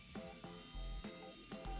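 Rotary tool fitted with a brush polishes a die-cast Matchbox Mercedes 300 SE model, a steady close-up motor whine that bogs down in repeated short bursts as the brush is pressed against the metal.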